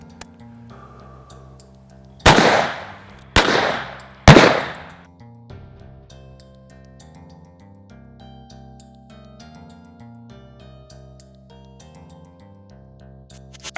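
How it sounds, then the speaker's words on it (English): Three loud, sharp revolver shots from a Taurus Raging Judge firing 45 Long Colt PDX-1 rounds into a ballistic block, spaced about a second apart, each with a short decaying echo, then quiet. "But this is the PDX-1 round, 45 long Colt. Let's shoot it at the ballistic shell block and see what happens."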